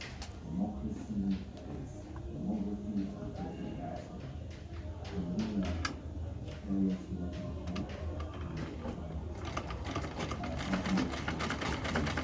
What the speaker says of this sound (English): I am going to top stitch on it so that it stays flat, very flat.